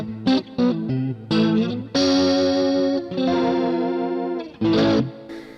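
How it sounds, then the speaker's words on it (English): Guitar pedal simulating a rotating Leslie speaker, giving chords a swirling, wobbling chorus-like shimmer; several short strums, then long sustained chords ringing out loudly with no talking. "this is my, how do you call it? Leslie sound. Simulator"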